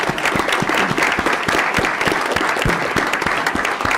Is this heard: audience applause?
yes